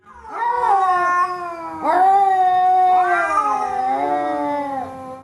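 A cat yowling and meowing close by: three long, drawn-out, rising and falling wails in a row, loud and clear with no other sound.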